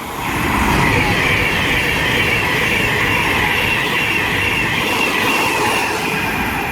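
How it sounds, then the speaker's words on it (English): A Class 390 Pendolino train passes through Tamworth station bound for London Euston, a loud, close, continuous roar of wheels and rushing air with rhythmic rail clatter, holding steady throughout. "now approaching's going to be another Class 390 Pendolino passing through"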